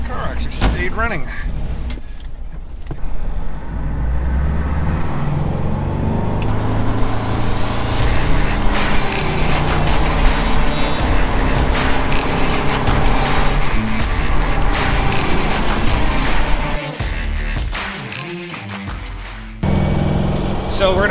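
A Porsche engine idles steadily and close by, a continuous low rumble under a voice talking throughout, with a brief dip near the end.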